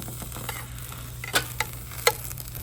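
A pan of shrimp with tequila sizzles softly as the alcohol cooks off after the burner is turned off, with a low steady hiss and a few light clicks and taps.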